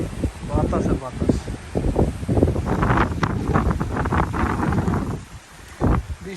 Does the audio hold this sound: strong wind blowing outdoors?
yes